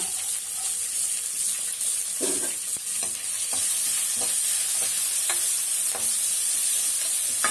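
A large onion with ginger frying in a pan and being stirred, a continuous bright hiss of sizzling oil with occasional soft clinks and scrapes of a spoon.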